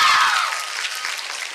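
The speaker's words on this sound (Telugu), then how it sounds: "తన్మయ్కి ఒకసారి గట్టిగా క్లాప్స్ కొట్రా" An audience at a film song launch event breaks into a short burst of applause for Tanmay, loud at first and then thinning into scattered claps that fade over about a second and a half.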